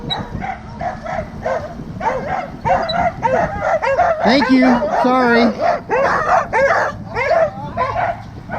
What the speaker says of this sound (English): Sometimes the dogs don't like us much, so we're gonna try to get across here.